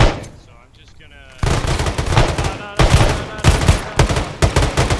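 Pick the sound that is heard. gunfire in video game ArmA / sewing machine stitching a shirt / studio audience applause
gunfire in video game ArmA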